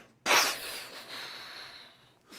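A person imitates a sneeze with a sudden sharp burst of breath that trails off into a long airy hiss.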